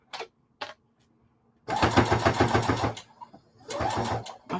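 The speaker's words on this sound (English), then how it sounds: "My sewing machine ain't never sounded like this, but this is some thickness right here." A home sewing machine stitches through a thick zipper pouch in short motor bursts: two brief taps, then a sustained rapid whirring run, a pause, and another run.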